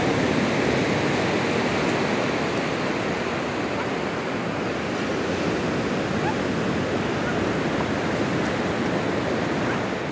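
Ocean surf on a beach at the edge of Nouakchott, Mauritania, rolls as a steady, dense wash of breaking waves with some wind, loud and unbroken with no voices.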